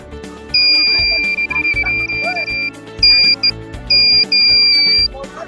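Electronic buzzer alarm of a smart dustbin at a science and robotics exhibition, beeping in sustained high-pitched tones, sounding in three separate bursts with short gaps between them.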